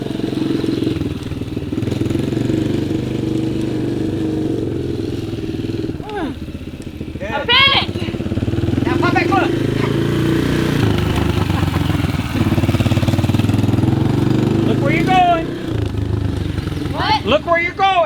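A motorcycle engine chugs and idles steadily near the mic as someone learns to ride, with raised voices calling out over the motor throughout.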